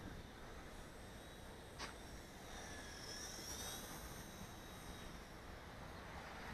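WLtoys V930 Power Star X2 RC helicopter with a brushless main motor flying in gusty wind, a faint, steady high whine from its rotor and motor drifting at a distance over a constant wind rush, with no talking.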